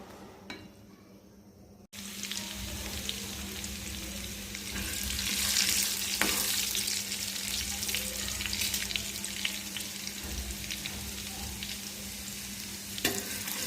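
Hot oil sizzles and fries in a wok at a steady level, with a brief quiet start before the frying noise fills in.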